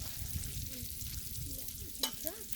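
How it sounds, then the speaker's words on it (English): Cabbage, sausage and bacon fry on a Blackstone griddle with a steady close sizzle. A spatula scrapes and stirs through it, and there is a bright metallic scrape near the end. "Just take it and just kind of, like that. Just kind of stir it up and spread it back out."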